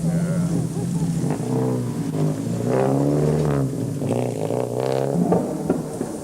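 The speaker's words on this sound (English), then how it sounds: "the eerie wail of a flat-out rally car can be heard from a long way off" A 1985 rally car engine wails and revs hard at full throttle on a forest stage, pitch sweeping up and down through gear changes, with a voice talking over it.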